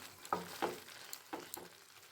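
Hariyali prawns with butter and garam masala sizzle softly in a pan, with a few quiet stirring scrapes at a close, faint level and no talking.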